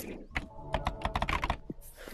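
Rapid keyboard typing inside the video game Animal Company: a burst of about a dozen crisp, close key clicks in an uneven rhythm, followed by a soft thud and some light rustling.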